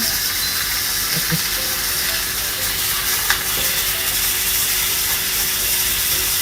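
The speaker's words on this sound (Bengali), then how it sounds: "সুন্দরভাবে মাছটা ভেজে নেওয়া হচ্ছে" Fish fries in hot oil with a loud, steady, close sizzle and faint clinks from the pan, the crackle holding evenly from start to finish.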